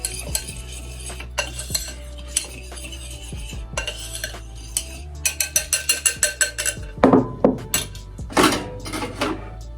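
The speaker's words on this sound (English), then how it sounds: "give it a good little whisk just to combine everything together" A whisk clinks and scrapes quickly against a bowl of flour, cinnamon, baking soda and salt for muffin batter, with scattered metallic taps at first, then a fast rhythmic run of strokes and a few louder knocks at the end.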